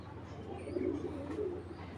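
A large Chuina pigeon hen gives a soft, low cooing call, close by and fairly quiet over a faint background hum.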